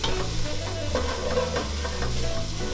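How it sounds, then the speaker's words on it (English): Onions sautéing in olive oil for a chicken turkey chili give a dense, continuous close-up sizzle, with light stirring scrapes running underneath. "Onions back in here. What we're going to do is we'll saute these little guys."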